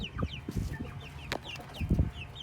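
Several hens and young chicks clucking and cheeping nearby in short irregular bursts, moderately loud, with no talk.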